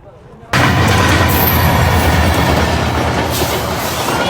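After a brief quiet moment, a train suddenly roars past close by, loud and sustained, with rattling wheels and a metallic squeal.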